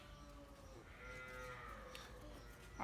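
A pure local-breed bull at a farm lets out one long, low moo that rises and falls, faint and somewhat distant, with soft background noise.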